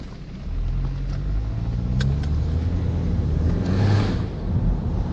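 A BMW car accelerating in sport mode, heard from inside as a loud, steady engine rumble with road noise that swells briefly before settling back down.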